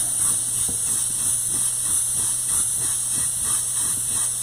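Aerosol primer sprayed in light coats onto a substrate, a continuous close hiss held throughout with faint rhythmic clicks beneath.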